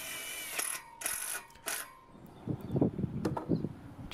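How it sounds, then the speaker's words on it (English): Self-tapping galvanized screws are driven into 90 by 45 mm treated pine rafters and posts: three short whirring bursts from a power driver, followed by knocks and handling noise up close. "Just screwing them into the posts with self-tapping galvanized screws."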